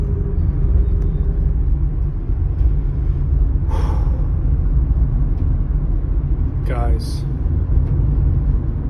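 A car driven along a road after sitting unused for a month gives a steady, loud low engine and road rumble throughout, with brief sounds from a person inside and a short spoken word near the start.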